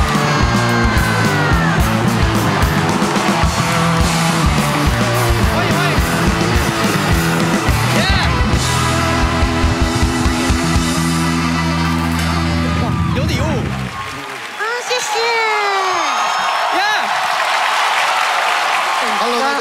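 A studio audience applauds and cheers to welcome a Malaysian singer onto a Taiwanese late-night talk show, with the clapping mixed under loud music for most of the stretch and voices talking over it.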